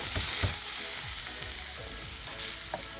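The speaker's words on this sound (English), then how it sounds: "Okay, so I'm gonna throw in some minced garlic." Minced garlic hits hot oil with a close, busy sizzle, stirred with a few scraping knocks of a utensil in the pan, steady throughout and without voices.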